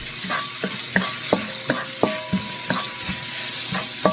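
Ginger stir-fries in hot oil in a pan, a steady sizzle broken by repeated scraping strokes of a utensil at a quick, regular pace, close and alone.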